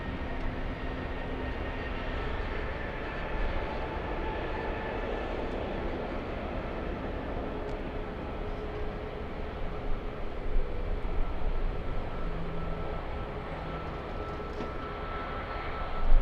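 A Flair Airlines jet takes off from LAX bound for Vancouver, its engine roar a steady broad rumble heard from a distance, continuous and fairly even for the whole stretch.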